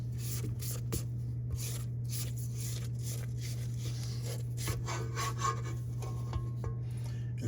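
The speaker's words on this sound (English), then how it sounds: "I'm gonna go ahead and scrape this down" A spatula scraping down the sides of a mixing bowl of ginger molasses cookie dough, soft repeated rubbing strokes close by over a low steady hum.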